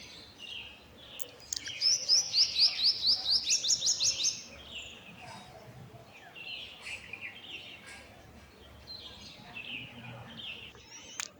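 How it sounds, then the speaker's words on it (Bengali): A male purple sunbird calls in a quick series of bright, high chirps lasting about two seconds, followed by softer scattered twitters against a quiet outdoor background. "এটি পুরুষ পাখি পার্পেল সানবার্ডের। মুখে সুন্দর আওয়াজ করে।"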